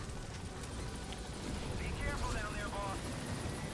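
Helicopter in the video game Metal Gear Solid V, a steady dense rotor and engine roar filling the whole stretch at constant loudness, with faint higher tones flickering over it midway.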